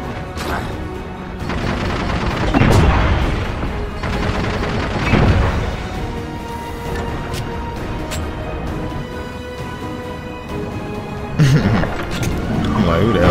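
Gunfire in the Halo 4 video game, scattered bursts and crashing shots over a dense combat and music bed, loud and mid-distance, with occasional impacts standing out.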